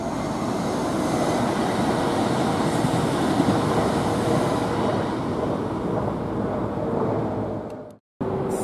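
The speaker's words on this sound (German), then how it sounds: "warten jetzt den Regionalzug ab" Regional train on the Brenner railway line rolling past close by, a loud, steady roar and rumble of wheels on rails that holds for about eight seconds before cutting out abruptly near the end.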